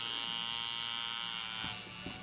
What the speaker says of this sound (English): On a coil machine, when you turn the voltage up, it makes it hit harder.